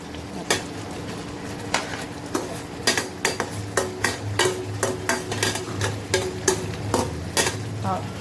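Potatoes frying in a pan for an egg curry, a steady sizzle under repeated sharp scrapes and clinks of a spoon stirring against the pot.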